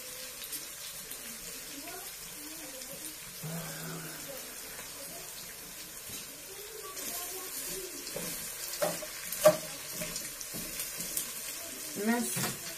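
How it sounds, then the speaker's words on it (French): Spaghetti toasts in a pan with onions, giving a low sizzle and occasional scraping clicks of stirring. Faint speech runs quietly underneath. "Je les grille en même temps que sur les oignons."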